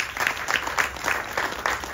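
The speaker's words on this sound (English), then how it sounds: "Clap for them." Audience at a Ganesh Chaturthi gathering applauds in a steady, moderately loud wash of clapping, with bursts swelling and fading over two seconds and no voices on top.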